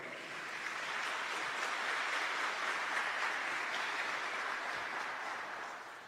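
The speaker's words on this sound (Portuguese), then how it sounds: "Pode aplaudir também." Broad audience applause, a soft, steady wash of many hands clapping that swells and holds for several seconds, quiet and somewhat distant, with no voices over it.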